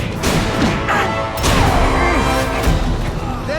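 A Spider Slam attack landing in The Amazing Spider-Man 2 video game, a loud, dense crashing impact with heavy thuds over game music and effects, close and filling the whole moment.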